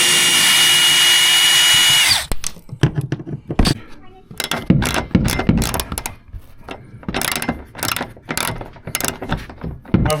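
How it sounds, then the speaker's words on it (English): A power drill whirs loudly for about two seconds, then stops, followed by a string of sharp mechanical clicks and clatter at close range while stripping screws from a bus interior. "Let's get the drill and then start stripping."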